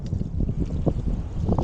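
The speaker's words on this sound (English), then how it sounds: "We're on the south bank, so we got a north wind," North wind gusting across the open water of Indian Lake, seen from the south bank while out fishing for crappie and bluegill. It makes a steady, close buffeting rumble against the microphone with small choppy bursts and no voices.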